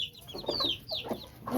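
Chickens cluck and chirp close by in a hen coop, with soft, irregular short calls and faint peeping over quiet background noise.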